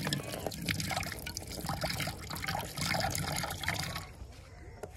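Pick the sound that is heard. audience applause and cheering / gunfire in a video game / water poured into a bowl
water poured into a bowl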